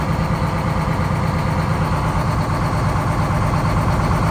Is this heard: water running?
no